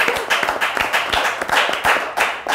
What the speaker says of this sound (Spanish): Un aplauso para este comentario.